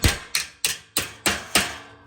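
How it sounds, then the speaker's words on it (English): A hammer strikes an extra piece of metal into a welded steel outdoor-kitchen counter frame, six sharp, ringing blows at an even rhythm about a third of a second apart, close and clear, each decaying quickly. "we'll go ahead and hammer in that extra piece of metal"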